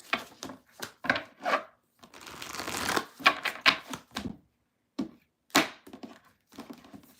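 Tarot cards riffled and shuffled in quick bursts of crisp, papery flutter, with brief pauses and a few soft taps between, close and clear.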